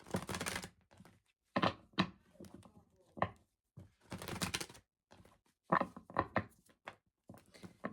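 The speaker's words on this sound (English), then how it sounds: "I'm gonna shuffle, maybe pull one more card." Tarot cards riffle and slap together in quick bursts, with short pauses between shuffles, close and fairly quiet.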